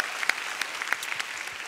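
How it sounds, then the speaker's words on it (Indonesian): Applause from a stand-up comedy audience rises briefly, a short burst of scattered, moderately loud clapping with a few sharper claps standing out. "Tepuk tangan dulu dong."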